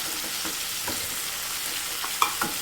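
Tomato and ginger-garlic paste fry in a pan for egg pasta, a steady hiss of sizzling broken by a few ladle taps and scrapes, close and fairly loud.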